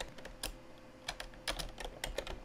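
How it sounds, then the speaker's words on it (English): Quick, uneven clicks of a computer keyboard as a command is entered on an HPE Comware network switch console, soft and close, in irregular bursts with brief pauses. "Typing the command"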